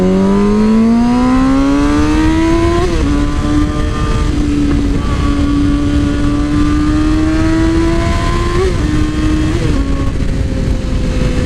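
A 2007 Yamaha R6 sport motorcycle accelerates hard on an open highway, its high-pitched engine whine rising steadily through gear changes, loud and close with continuous wind roar.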